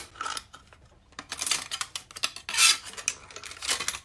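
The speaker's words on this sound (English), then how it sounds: "we're going to go ahead and cut the top of the can off" Scratchy metallic cutting and scraping as the top is cut off a tin can, irregular rasps and clinks up close, with no voices.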